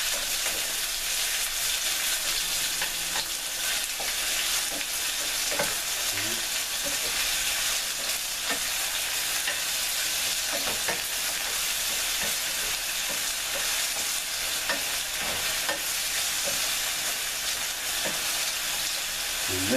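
Sliced resinous polypore mushrooms sauté in a hot pan with a steady, dense sizzle and crackle that runs the whole time, broken by small pops and stirring clicks.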